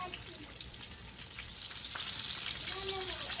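Coated zinger burger chicken fries in a pan with a steady, close sizzling hiss that swells slightly louder toward the end, with a few faint crackles and no voices.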